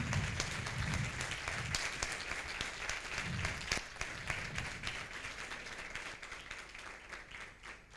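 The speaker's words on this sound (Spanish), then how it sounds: "Ya escucharás los aplausos, Gerardo." An audience at an international symposium applauds with steady, dense clapping that continues throughout, moderately loud and slightly distant, with some low background noise.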